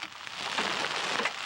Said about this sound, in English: Mother Nature gives them hail.